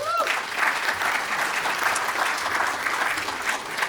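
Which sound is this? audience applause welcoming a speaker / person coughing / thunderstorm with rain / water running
audience applause welcoming a speaker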